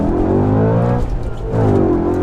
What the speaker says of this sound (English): it has the growl typical to V8 engines